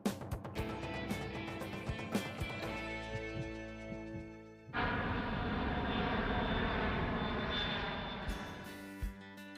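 Aircraft engines roar at an airport in the evening, a loud, continuous broadband rumble that swells sharply about halfway through and holds steady, with no talking.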